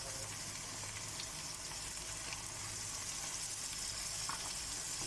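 Chicken pieces fry in oil with garlic-ginger paste added, giving a steady, close sizzle with occasional soft stirring scrapes and no talk throughout.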